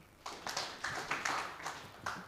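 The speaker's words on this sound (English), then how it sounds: "Let's clap for him." Scattered, faint clapping from a small audience at a SACCO society annual general meeting at its Thika headquarters: a handful of distinct hand claps spread unevenly over about two seconds in a quiet room.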